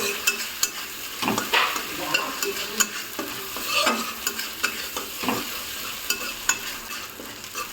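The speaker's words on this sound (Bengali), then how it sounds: "এখানে দিয়ে দিচ্ছি আদা রসুনের পেস্ট দিয়ে এটাকে একটু ভালো করে মিশিয়ে নিতে হবে" Ginger garlic paste stir-fried in a pan for pav bhaji, a close, bright sizzle punctuated by regular spatula scrapes and taps, steady throughout with no one talking.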